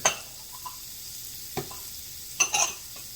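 Chopped green onions dropped into a pan of garlic chili shrimp, giving a soft sizzle with a few brief stirring scrapes and clinks, quiet and close.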